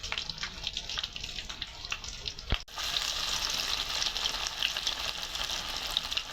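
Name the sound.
onion fritters (peyaji) frying in oil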